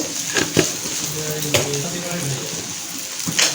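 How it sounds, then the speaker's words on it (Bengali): Ground cumin and coriander masala sizzles with browned onions in a pan for egg tikka masala, a steady close hiss marked by a few sharp clinks and stirring scrapes, with no talk. "আমরা মশলাটাকে ভালো করে কষিয়ে নেব।"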